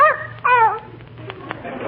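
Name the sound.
small dog yipping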